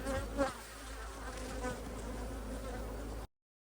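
A dense, steady hum of many honeybees buzzing close by at an open hive, continuous and moderately loud before cutting off abruptly.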